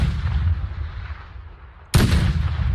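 A single heavy sniper rifle shot in the Warzone Mobile video game, a sharp loud crack with a booming tail that rings out after a stretch of low rumbling ambience.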